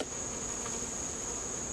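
A steady, high buzzing drone of honey bees in an opened hive, close and continuous, with faint background rumble.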